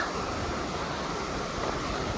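A New Mexico river swollen with spring runoff rushes steadily near Ghost Ranch, a constant close wash of flowing water without any talking.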